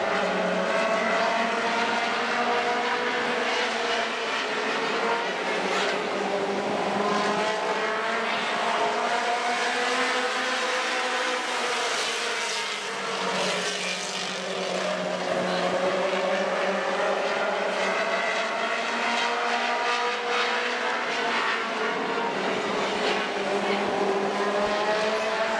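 Race cars circling an oval track in a modified feature, engines whining and droning continuously, pitch rising and falling as the pack passes, loud and sustained without pause.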